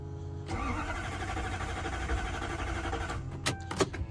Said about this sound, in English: When you try to start the car, all that you get is you get it turning over.